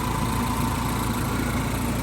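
Close and steady, a classic Mini car engine idles with an even, throbbing rumble and a constant mechanical hum, no revving or talk.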